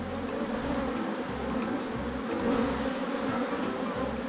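Dense, steady buzzing of a honeybee swarm gathered on a heavy, honey-laden hive frame, a close, continuous drone with no pauses across the whole stretch.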